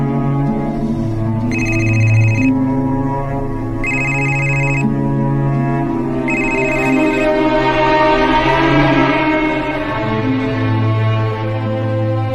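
A cellphone rings in three evenly spaced bursts of bright electronic tone over a steady, droning musical bed in a horror audio drama.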